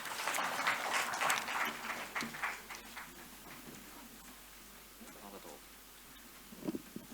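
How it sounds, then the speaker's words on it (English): Applause rises from an audience at a poetry festival panel for the panelists, a scattered patter of claps loudest at the start and thinning out, with a few last claps near the end. "Can we have a huge round of applause for our panelists?"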